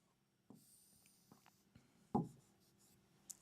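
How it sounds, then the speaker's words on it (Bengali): Marker or chalk scratching out a circle on a classroom board, a few faint, separate strokes and taps with one sharper knock, quiet and close. "আমরা আর ব্যাসার্ধ নিয়ে একটা বৃত্ত আঁকছি"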